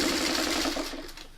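A sewing machine runs fast while stitching a fabric seam, a steady mechanical whir with a rapid needle chatter that slows slightly toward the end, fairly close and alone.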